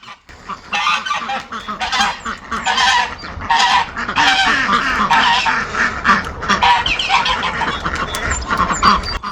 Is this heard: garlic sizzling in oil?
no